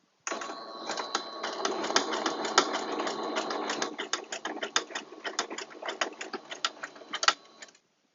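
A new domestic sewing machine stitches a kitchen towel, a steady rapid mechanical clatter running for several seconds, then loosening into slower irregular ticks before stopping.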